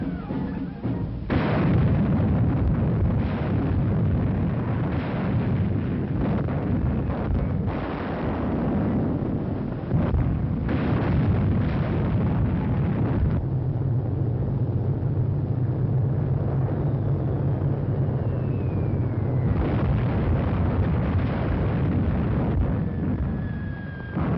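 Heavy, muffled booms and rumbling blasts of war-documentary gunfire and explosions, a dense continuous roar with bursts rising and falling over a long stretch and no talk.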